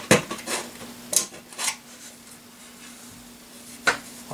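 A pocket knife punching and prying open a metal can for a hobo stove, giving a few sharp metallic clicks and scrapes spaced apart over a quiet background, close and fairly soft.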